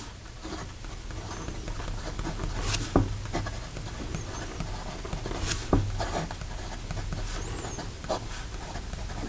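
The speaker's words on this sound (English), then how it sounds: "Here we go with the rest of the writing sample." A Montblanc James Dean fountain pen with a rhodium-coated nib writes on paper, giving a soft, steady scratch close up with a few sharper taps from the nib touching down.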